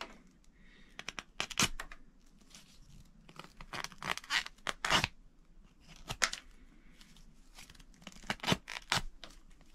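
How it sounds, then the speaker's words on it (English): An Ozark Trail D2 steel folding knife slices through tough 8-9 ounce leather in repeated short, close, dry tearing and scraping strokes, arriving in bursts with quiet pauses and no talking. "let's go ahead and see how it works on this leather right here, cutting into, you know, leather"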